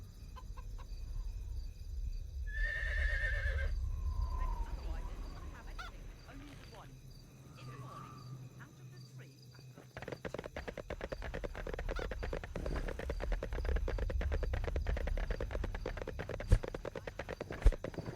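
In the video game Sacred, a horse gives a short neigh early on, followed later by a steady, rapid clatter of hooves that runs to the end. A person talks over parts of it.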